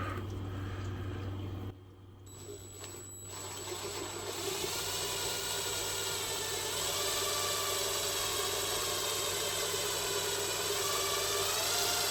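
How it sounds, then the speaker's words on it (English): A power drill bores out the pins of a rusty machete with a steady, close mechanical whine. It dips briefly near the start, then runs continuously and slightly louder to the end. "Let's get this other one drilled out."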